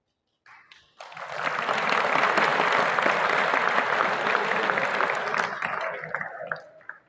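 Students in a Delhi school hall break into dense applause that swells within a second, holds steady for about five seconds, then tapers off.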